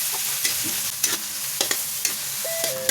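Canned ground pork frying with eggplant after onion, garlic and tomato, heard as a constant close sizzle broken by regular scraping strokes of a spatula against the pan, with no speech.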